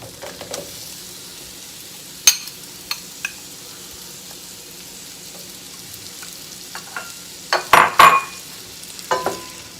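Shallots sauteing in a pan give a soft, steady sizzle, broken by a few sharp clatters and scraping stirs near and fairly loud.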